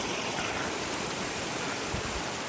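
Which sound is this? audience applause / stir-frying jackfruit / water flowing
water flowing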